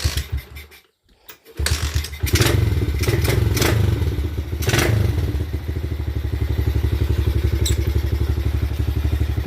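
A Kawasaki KLX110 dirt bike engine with a lean bog runs with the choke off. It sputters in after a brief gap, then drones loud and close with a rough, uneven beat, as if about to stall.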